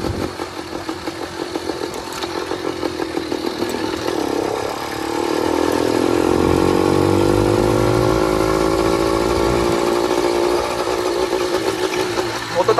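A 100cc motorized bicycle engine running without its clutch cover, a buzzy two-stroke-style drone that putters unevenly at first, then rises and holds a steadier higher whine before easing, close and continuous.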